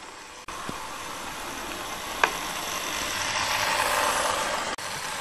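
A Hornby Hogwarts Castle model locomotive with a quiet motor, running as a steady soft whirring hum that swells slightly as it goes, with a faint click or two, close and without talking.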